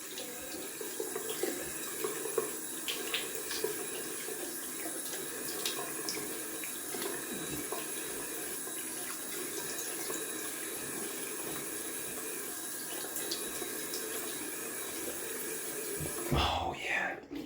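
A tap runs steadily into a sink while someone rinses their face with cold water after a wet shave, a continuous moderate water stream with splashes and a louder burst of rinsing near the end.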